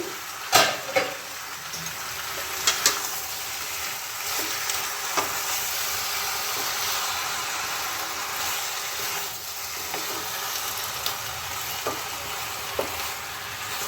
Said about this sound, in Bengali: এটাকে আমি আরেকবার নেড়ে দিলাম